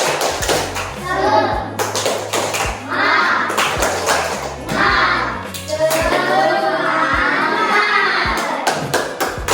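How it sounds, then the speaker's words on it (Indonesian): Fourth-grade schoolchildren in a classroom perform the tepuk semangat clapping chant, a rhythmic pattern of hand claps and thumps mixed with their chanting voices and a teacher's talk. "Coba tepuk semangat ke mana?"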